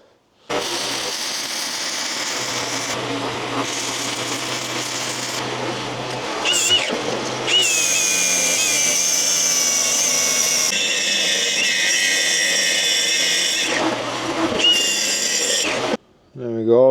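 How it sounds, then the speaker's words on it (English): A power planer shaves down the edge of a 15th-century solid oak door under restoration, a steady loud motor whine with cutting passes rising and easing, stopping briefly near the end. "just going to plane this down"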